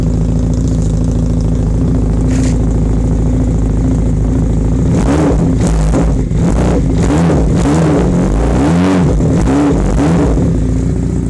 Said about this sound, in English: Nice little exhaust tone.